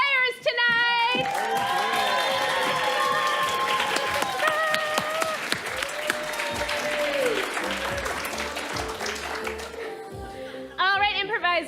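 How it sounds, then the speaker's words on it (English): A crowd at an improv comedy show bursts into loud, sustained clapping with cheers and whoops, dense and close, swelling again briefly near the end. "Please, everyone, give a big round of applause for our players tonight!"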